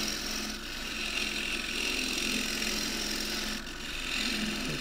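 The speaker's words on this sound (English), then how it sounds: "It's basically a shear scrape with the wing, or shear cut with the wing." A spindle gouge shear cutting wood on a lathe while a thin pot is turned, giving a steady, close, continuous hiss and rasp over the low hum of the lathe, with brief dips in pressure.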